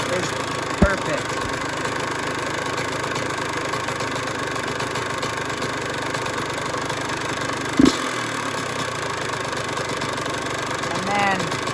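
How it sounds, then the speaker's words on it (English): A two-stroke engine idles steadily after an idle screw adjustment, a continuous mid-pitched drone with a couple of brief sharp knocks standing out over the running. "So you just want to mess with this until your idle is perfect."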